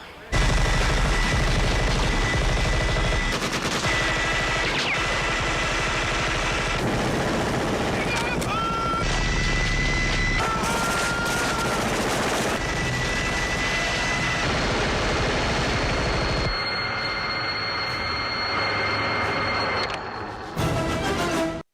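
Minigun with spinning barrels firing on the set of the 1987 Predator film, a loud, continuous mechanical roar of rapid fire that runs unbroken for about twenty seconds and then cuts off abruptly.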